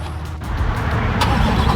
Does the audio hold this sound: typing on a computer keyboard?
no